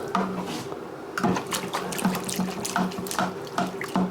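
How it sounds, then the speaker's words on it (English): Water sloshes and splashes in bursts as molasses is stirred into it, with repeated swishing strokes close by. "we want to start mixing our molasses into that water"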